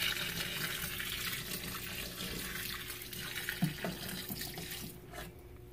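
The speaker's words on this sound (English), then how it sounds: "I am back with the bucket of water again, and I'm just going to go ahead and pour it in here." A bucket of water is poured into a hermit crab tank being set up with play sand and eco earth, giving a steady, moderately quiet splashing and trickling that tapers off near the end.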